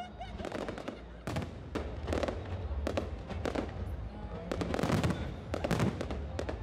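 A New Year fireworks display over a provincial crowd in northeast Vietnam, with dense, continuous crackling and booming bursts, some sharp loud reports, and a steady roar of distant explosions and crowd noise throughout.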